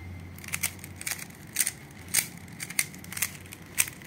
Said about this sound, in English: So now he's been shuffling the cube.